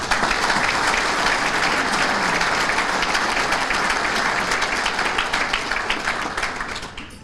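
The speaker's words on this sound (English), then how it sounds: "that applause should be for Matt" A banquet-hall audience at a chamber of commerce annual meeting and citizen-of-the-year award bursts into sustained applause after a $50,000 charity fundraising total is announced. The clapping stays loud and even, then gradually thins toward the end.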